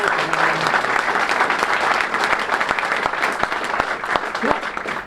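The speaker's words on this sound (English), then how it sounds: "That deserves a round of applause" Audience applauds steadily at a televised statewide announcement by the Louisiana governor on a $160 million coastal barrier-island restoration project, dense clapping sustained throughout at a fairly loud, even level.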